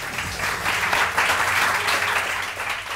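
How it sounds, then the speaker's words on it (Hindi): Studio audience applause on a morning television show, a steady dense wash of many hands clapping throughout, moderately loud and unbroken. "सबसे पहले बहुत सारी तालियां रानी आपा के लिए, बहुत सारी तालियां।"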